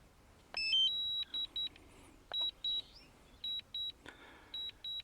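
A Mavic Air 2 drone controller beeps in short, evenly spaced bursts, a cluster of high electronic tones repeating over a quiet background.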